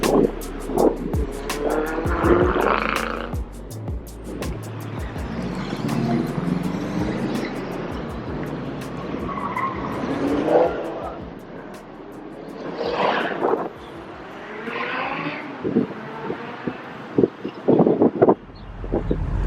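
Many cars at a Minnesota street car meet pass and rev on the east side, engines rising and falling in repeated waves with occasional tire noise, loud and close throughout.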